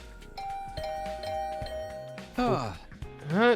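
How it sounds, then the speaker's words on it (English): A doorbell in a video game rings repeatedly in a quick barrage of electronic ding-dong chimes, with game music and sound effects running underneath. "The sudden barrage of doorbell rings took me by surprise"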